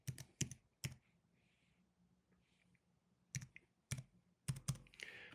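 Computer keyboard keys being tapped to enter a number, a few sharp close clicks in short clusters separated by quiet pauses, with no talking.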